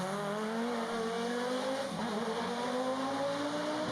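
An Audi Quattro rally car drives hard at a rally in San Marino, its engine note rising and falling in long sweeps with a steady roar and faint tire noise, close and continuous, no voices.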